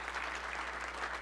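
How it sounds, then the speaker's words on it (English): Applause rises from a church congregation honoring Taylor, a soft, fairly distant wash of many hands clapping that holds even and unbroken for a brief moment. "can we give Taylor a hand for not only today,"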